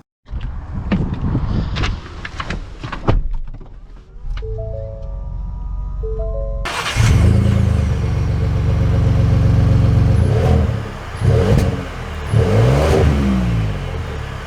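A 2022 Ford Expedition Platinum pulls away, its engine revving and droning loudly and steadily close by, after a few seconds of lighter clatter and quieter mechanical sounds at the start.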